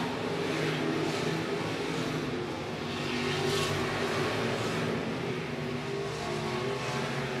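Stock cars racing at I-76 Speedway, a continuous dense engine roar from several cars running close together, loud and steady with slight swells as they pass.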